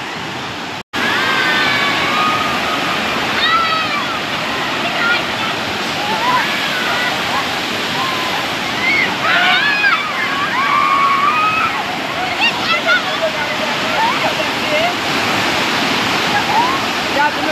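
The Nava Devi waterfall near Shirpur in Dhule pours in the rainy season with a loud, steady roar of rushing water. Faint voices and bird calls sit beneath the constant flow.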